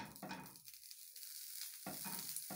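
A spoonful of butter melts over low heat in an oiled pan, giving a soft, faint sizzle with brief stirring scrapes that pauses midway and then resumes.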